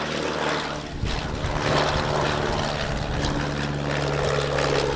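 An Auster AOP6 single-engine propeller plane flies a display at an airshow in the Midlands, its engine droning loud and steady with a rising and falling tone as it passes overhead.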